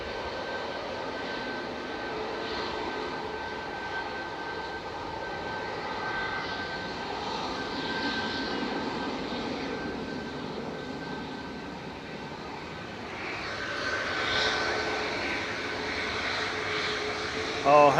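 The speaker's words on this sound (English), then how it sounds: "Flight 2197 departing to Munich there," Jet airliner departing Manchester Airport for Munich, a distant, fairly even engine rumble that builds a little toward the end and ends with a brief louder knock.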